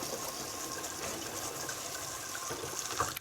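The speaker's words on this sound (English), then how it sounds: "what I like to do is just run some cold water over it, just to take out some of the heat." Cold tap water runs steadily over freshly drained cooked food in a kitchen, a continuous rushing gush with no talk over it for a few seconds.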